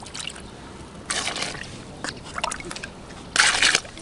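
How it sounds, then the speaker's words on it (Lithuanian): Water is poured in bursts over a dry fishing bait mix of corn and hemp, giving uneven splashing and sloshing with short pauses between pours and a louder final gush near the end. "Ir užpilam vandenuku."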